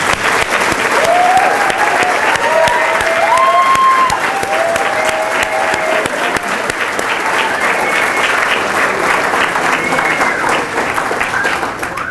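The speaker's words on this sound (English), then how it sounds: "give him a round of applause for all of the work that he does" A conference audience breaks into sustained, loud applause, with dense clapping holding steady for the whole stretch and a few voices murmuring underneath.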